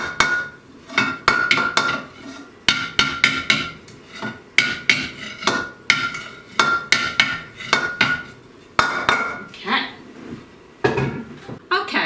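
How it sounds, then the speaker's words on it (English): Rhythmic metallic rattling and banging of a Bundt cake pan being shaken repeatedly with confectioner's sugar in short bursts, close and loud, with brief pauses between shakes. "So I'm going to shake this around and get it all coated with the confectioner's sugar."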